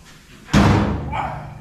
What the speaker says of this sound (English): Make sure you slam that door now.